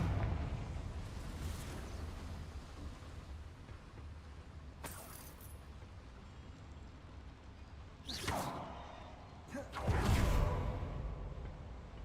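Fiery explosive Confringo spell in Hogwarts Legacy, cast as bursts that flare over a low mechanical rumble, with sharp whooshing blasts near eight and ten seconds.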